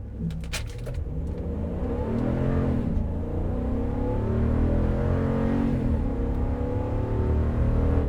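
A Ram 1500 pickup truck accelerates hard from a standstill toward 60 mph with traction control off, its engine droning loud and steady as the pitch climbs through gear changes, heard close from inside.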